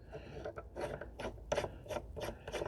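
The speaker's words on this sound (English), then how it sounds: "you just tighten the nut down" A nut is tightened onto the barrel of a Henry AR-7 survival rifle, giving a close, quiet run of rasping, grinding turns in short repeated bursts without speech.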